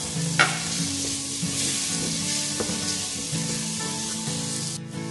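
Onion sautéing in a pan with spices for a Malabar-style dry beef dish, a steady close sizzle with scraping stir strokes throughout, no talking.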